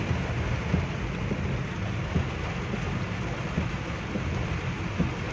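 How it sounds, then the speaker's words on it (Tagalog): Heavy rain pours down on a traffic-clogged road during a doorstep delivery run, with flooding starting. A dense, steady roaring hiss fills the whole stretch at constant loudness, with no voices over it. "grabe ang lakas ng ulan"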